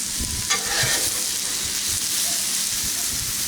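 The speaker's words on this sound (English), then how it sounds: "We'll let these saute for a few minutes." Cheesesteak filling sautéing on a Blackstone griddle, a loud, dense hiss of sizzling with scattered scraping and tapping from stirring, close up and continuous.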